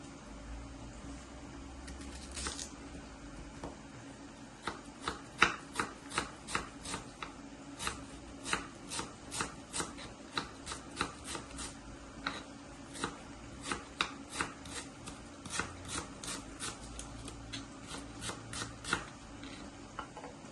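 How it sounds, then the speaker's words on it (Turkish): Rapid knife chopping of onions into julienne strips on a cutting board, crisp repeated taps in quick bursts, close and moderately loud, with a faint steady hum underneath. "biz de soğanlarımızı jülyen doğrayalım."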